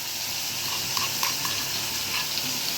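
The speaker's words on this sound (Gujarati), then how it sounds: "આમાંથી હજી હું આ લસણ નાખું છું." Garlic dropped into hot oil for a tempering crackles and sizzles steadily in a village kitchen pan, a dense close hiss with small spitting pops and no talking.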